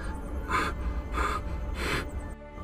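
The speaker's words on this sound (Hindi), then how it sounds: "सडनली मित्सुओ काफ़ी तेज हाँफने लगता है।" A cartoon character pants heavily: three loud, breathy gasps in an even rhythm, then a brief pause.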